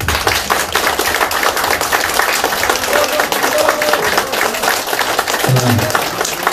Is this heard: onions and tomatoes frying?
no